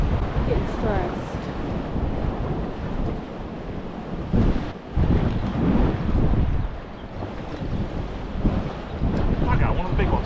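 Strong wind at a Spanish marina roars and buffets across the microphone, a continuous rough rumble with a brief lull midway before the gusts pick up again.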